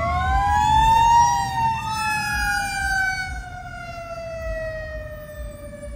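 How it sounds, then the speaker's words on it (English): An ambulance siren wails during an MLK event in Little Rock, Arkansas, its rising and falling tone loud and close over street rumble, with overlapping siren sweeps. "The ambulance coming."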